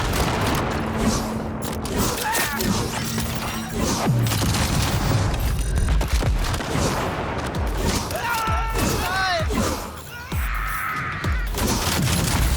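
Loud shotgun blasts in a video game, heavy booming shots mixed with game sound effects and bursts of gunfire across the clip, with a player's voice talking over the action.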